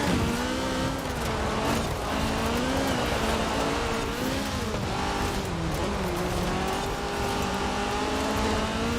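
A GT70 rally car in Forza Horizon 4 drives hard with a loud, continuous engine drone whose pitch rises and falls through gear changes and cornering, with tire noise underneath, close and unbroken.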